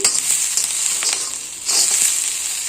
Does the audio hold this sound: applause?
no